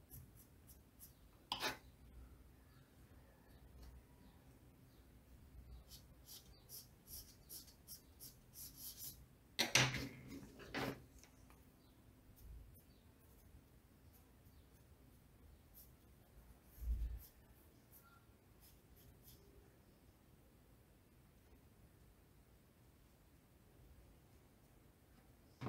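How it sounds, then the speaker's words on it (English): A white pastel pencil scratches softly on paper while details are added to a boat in a lake landscape, faint intermittent rubbing strokes broken by a few louder knocks and handling bumps, quiet and close with no talking. "Let's use the white pencil to give it more details."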